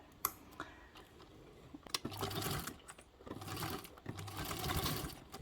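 A sewing machine stitches a zipper into a BellaGo Caddy bag in bursts, separated by short pauses and small clicks of handling, close and moderately loud.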